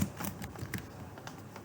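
Keystrokes on a computer keyboard during a JavaScript coding lesson, a quiet run of soft, irregular clicks over about two seconds with no voice.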